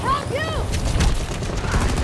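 Gunfire in the shooter game Battlefield 2042, a quick run of close, loud shots with a rising tonal whine at the start and a voice talking over it.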